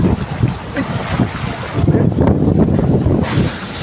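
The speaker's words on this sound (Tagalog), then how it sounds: "Masyado na mahangin, hindi na kaya." Strong wind gusts buffet a small boat at sea, a steady loud roar with rushing water and microphone buffeting, no voices.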